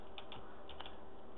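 Quick keystrokes on a computer keyboard, a handful of light clicks in an irregular rhythm heard close over a quiet hiss.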